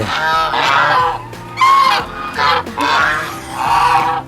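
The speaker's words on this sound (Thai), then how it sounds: "ปู่กำลังให้อาหารห่านนะครับ มีห่านหลายตัว" A flock of geese honks loudly and almost continuously at close range while being fed by an older man at a farm park, their harsh calls overlapping in uneven bursts.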